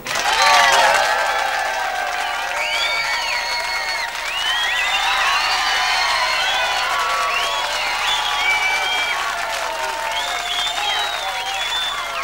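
Sustained applause from an audience fills the space, steady clapping with some cheering and whistles mixed in, continuing for several seconds.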